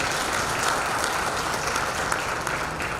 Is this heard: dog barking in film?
no